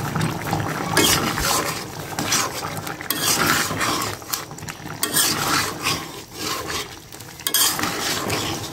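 Curry being stirred in a cooking pot with a utensil, scraping and clinking against the metal under a steady sizzle of frying, continuous and close throughout.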